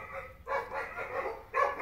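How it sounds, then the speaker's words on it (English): Several dogs barking next door in a back-and-forth run of barks and yips, close and fairly loud, with no talking over them. "Those rotten dogs are barking next door."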